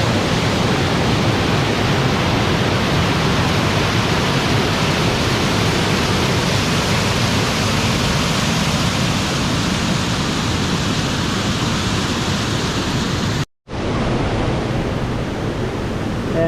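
A waterfall pouring under a rock in the Amazon jungle at Fin del Mundo roars as a loud, unbroken broadband rush, close by and constant, with a momentary dropout near the end before the torrent resumes.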